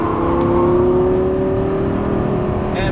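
Lamborghini accelerating out of a corner on a race track, its engine note rising steadily in pitch as it pulls hard, loud and continuous from inside the car, with no talking.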